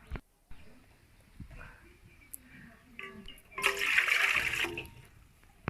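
Two cups of water poured into a pot to make sugar syrup, a short splashing gush in the middle, with quieter kitchen trickles and clatter around it.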